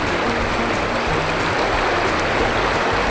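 River water flowing steadily at Liliw, Laguna in the Philippines, a loud, continuous rushing wash close by with no break, no voices.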